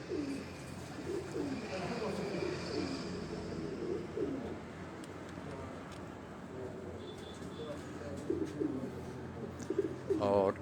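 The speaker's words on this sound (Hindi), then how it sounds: "ये अब्दुल बासित चौधरी उनके घर का ये काले मुंह वाला कबूतर जो 3:31 पर बैठा है" Pigeons coo repeatedly on a rooftop loft, including a black-faced pigeon, with steady low cooing close by over continuous background noise and a few brief higher chirps.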